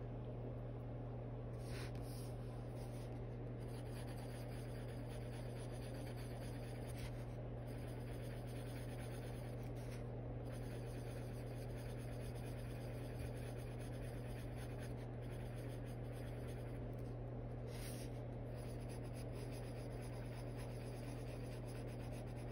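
Steady scratchy rubbing of a Posca colored pencil on paper, close and quiet, with short pauses between strokes over a low constant hum.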